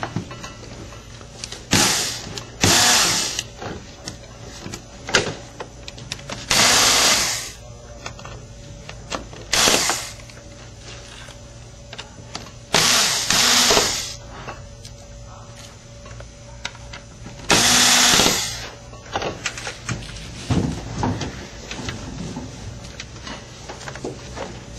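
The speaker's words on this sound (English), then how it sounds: "And now we can remove the 4 screws." Four screws are backed out of a Vizio P42HDTV10A plasma TV in several separate bursts of whirring driver noise, with small clicks and handling sounds between them, close up.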